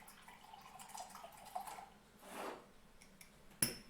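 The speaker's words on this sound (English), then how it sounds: "So now I'm going to add a little bit of filtered water." Filtered water is poured into flour to feed a sourdough starter, a soft, brief splash and trickle in a quiet kitchen, with a few faint drips around it.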